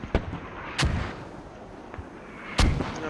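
Mortar rounds firing in the military shooter game Squad: three separate deep, booming thuds spread across a few seconds, each with a short rolling tail and no voices.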